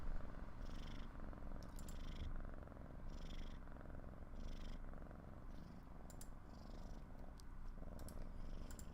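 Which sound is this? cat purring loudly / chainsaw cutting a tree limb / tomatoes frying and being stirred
cat purring loudly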